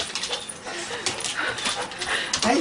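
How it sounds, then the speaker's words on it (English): A dog at a family homecoming whimpers and whines in short, high, close cries scattered throughout, mixed in with excited human voices talking over it. "whimper and whine"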